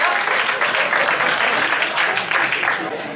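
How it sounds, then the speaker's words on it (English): Audience applause for a volunteer during a motivational speaker's talk, a short burst of dense, lively clapping from a seated crowd that tapers off at the end. "round of applause for the man over here."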